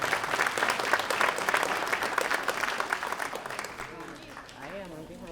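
A crowd at an elementary school ribbon cutting ceremony claps for a guest, steady applause that fades over a few seconds as a voice begins talking near the end.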